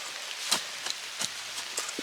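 Light rain falls in a garden, a faint steady patter with scattered single drops ticking on nearby surfaces, no voices.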